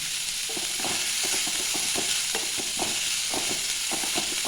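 Onion, ginger and garlic sautéing in coconut oil in a pan, with a steady, loud sizzle and repeated scraping and stirring strokes of a spoon throughout.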